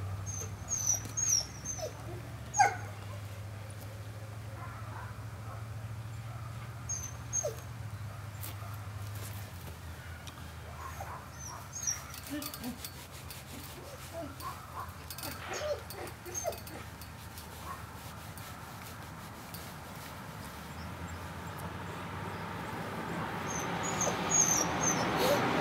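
Dog whimpering and yipping softly while hoping for pieces of a butchered rooster, thin high whines recurring intermittently over a low background rumble.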